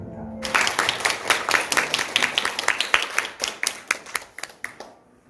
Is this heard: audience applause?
yes